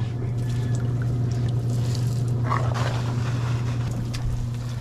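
A strong stream of tap water gushes steadily into a basin while laundry is being rinsed outdoors, a constant loud rush with a low hum beneath it.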